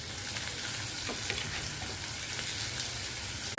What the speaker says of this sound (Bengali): লাল লাল করে একটু ভেজে নেবো এটাকে